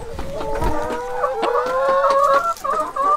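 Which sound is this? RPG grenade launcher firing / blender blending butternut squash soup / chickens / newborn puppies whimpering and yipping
chickens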